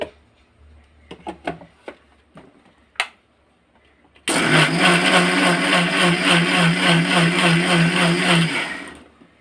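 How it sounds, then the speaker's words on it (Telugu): An electric mixer grinder blends bananas into a milkshake, starting after a few light clicks and knocks and then running as a loud, steady motor whir for several seconds before cutting off. "మిక్సీ పడుతున్నాను ఇప్పుడు"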